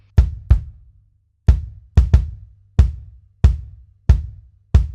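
A Logic kick drum sample hits in a loose pattern of single and paired strikes, each punchy and deep with a short decay, alone and dry with silence between the hits.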